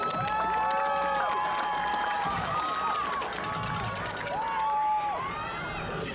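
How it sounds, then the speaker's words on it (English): A high school homecoming crowd in a stadium claps and cheers in a broad, distant wash, while a loud whistling tone and other voices sound over it. "Let's give a round of applause for Madeline and Israel."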